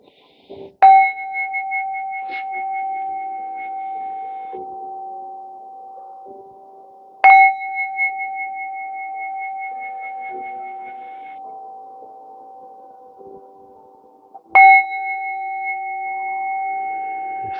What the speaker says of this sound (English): Let your body vibrate with the bell.